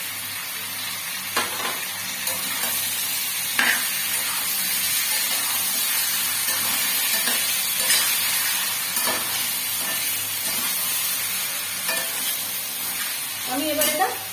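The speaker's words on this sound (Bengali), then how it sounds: "চিকেনটা কষা চলছে, তেল বেরিয়েছে" Chicken frying in oil with ginger, garlic and chili paste plus coriander paste, giving a steady close sizzle throughout with occasional louder spatters and stirring scrapes.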